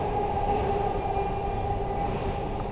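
At the Oakland train station, a train rumbles steadily close by with a constant low hum and rolling noise, heard alone with no voices.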